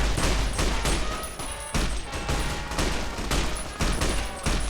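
Fallout New Vegas gunfight with sustained, dense gunfire, repeated shots and bursts crowding the whole stretch at moderate loudness with no pause.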